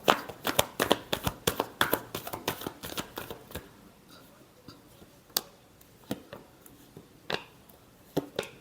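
A deck of tarot cards is shuffled by hand at close range, with quick riffling bursts of crisp clicks and slaps early on, then sparser single card snaps.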